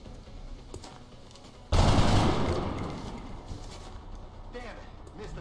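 A single burst of gunfire in the turn-based game XCOM Long War erupts loud and sudden, then trails off in a long fading rumble, with quieter game ambience before and after.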